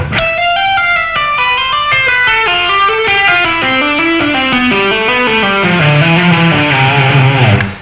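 Distorted electric guitar plays a rock legato scale run built on hammer-ons and pull-offs, a long, smooth stream of connected notes that climbs and then descends, loud and alone throughout.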